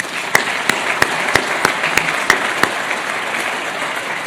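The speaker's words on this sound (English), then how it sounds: "how about a special hand for our guests from the city this morning?" An audience at an Asphalt Institute centennial celebration gives a hand for guests from the city, brisk crowd applause with a few loud, evenly spaced claps near the microphone over a steady background patter.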